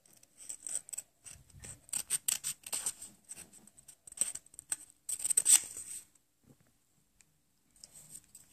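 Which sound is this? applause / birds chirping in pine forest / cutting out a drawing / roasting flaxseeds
cutting out a drawing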